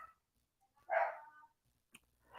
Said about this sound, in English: the dogs are barking in the background